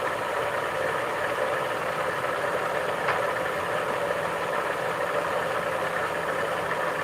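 An engine idles steadily at about 1,000 RPM, a continuous even mid-pitched hum and rumble with faint vibration and no voices.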